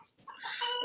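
Farm chickens in a coop give a brief, faint cluck or squawk lasting under a second, with no other sound.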